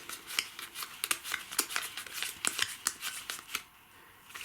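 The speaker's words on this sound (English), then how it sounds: "we'll take the others, shuffle them" Fortune cards from the Warhammer Quest board game being shuffled by hand, a quick run of crisp riffling snaps and slaps, close and light, ending in a short quiet pause.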